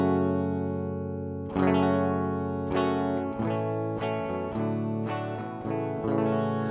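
Rickenbacker 330 electric guitar through a Boss GX-10 on a blank patch, with a sustained ringing chord followed by a run of quickly picked notes and strums, close and steady in level, with no talking.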